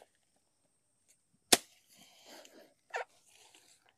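A knife slices into the inner core of a banana tree stem, giving two sharp, close cuts about a second and a half apart, with soft rustling between them in an otherwise quiet space.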